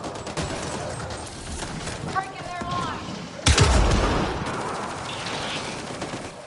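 Rapid bursts of gunfire in the Mass Effect Andromeda shooter, with a loud heavier blast midway, mixed with combat effects and voices calling out during the fight.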